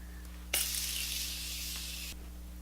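Morphe Continuous Setting Mist sprayed onto a face as a single steady hiss lasting about a second and a half, close and clear over a quiet room with a low hum.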